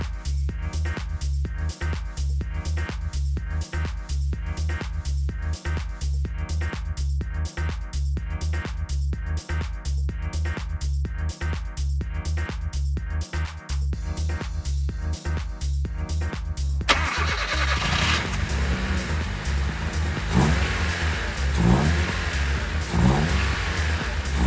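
Turbocharged Honda D15Z6 engine swapped into a car: a steady, loud idle with rapid rhythmic pulsing, then a shift to a rougher, broader roar and whir for the last several seconds.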